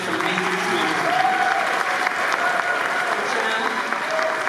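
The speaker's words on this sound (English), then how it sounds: "let's give them a round of applause to the Comcast team who helped organize this amazing screening" Audience applause fills a screening at the Castro Theatre, a steady dense clapping wash from a large crowd that holds loud and even throughout with faint voices mixed in.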